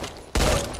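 A single sharp Beretta pistol shot in the zombie video game Back 4 Blood, loud and abrupt, decaying quickly.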